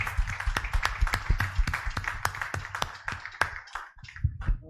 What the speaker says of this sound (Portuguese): Vamos começar dando uma linda salva de palmas ao Senhor Jesus